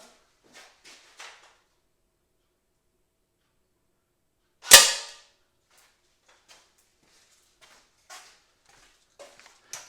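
A pellet or BB gun fires once at a trap, a single sharp, loud crack standing alone amid near silence, with a few faint clicks and handling noises before and after.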